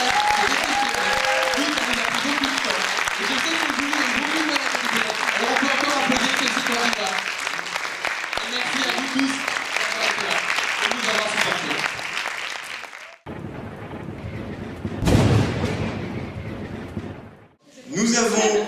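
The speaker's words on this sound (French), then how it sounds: "on va applaudir une nouvelle fois ces 6 candidats parce qu'ils ont vraiment été très bien." A debate audience applauds the six candidates at the Joutes Rémoises, NEOMA versus Sciences Po, in a long loud sustained round of clapping with cheers and voices. The clapping breaks off, then returns in short bursts near the end.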